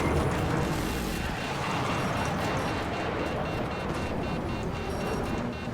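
A disabled, heavily damaged jet in the Battlefield 6 video game gives a loud, continuous roaring rush of engine and wind noise that surges and fades slightly, with no voices.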